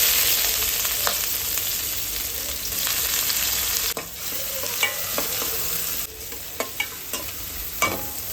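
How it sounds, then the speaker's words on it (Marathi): Onion hits hot oil seasoned with cumin seeds and crackles loudly, a bright sizzle punctuated by sharp scrapes and taps of a spoon stirring the pan. "आता आपल्याला यामध्ये घालायचं आहे कांदा."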